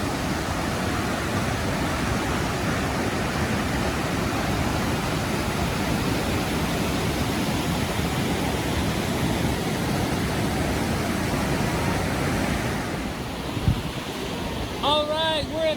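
The Deschutes River pours over Benham Falls in Central Oregon, a steady, dense roar of rushing water and rapids that fills the whole stretch without pause, with a few faint sounds near the end.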